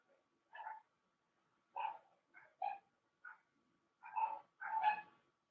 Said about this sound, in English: How many dogs keep barking?